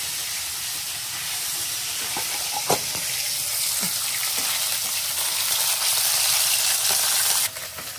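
Fish cooking on a stove, puti and tengra fish simmering in a village kitchen beside a pot of rice, gives a steady close hiss and sizzle throughout, with a few faint clinks over the even frying noise.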